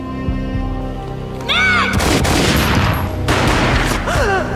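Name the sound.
gunshot in the video game Max Payne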